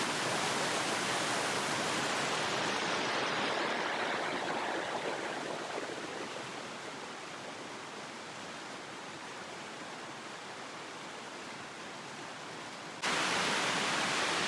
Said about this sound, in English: Another massive waterfall.